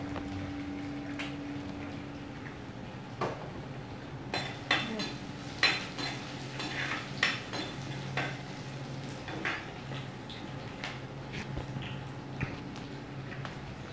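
Ginger fries in a pan for Kerala fish curry, giving a soft steady sizzle while a spoon stirs and scrapes against the pan in scattered clicks and knocks.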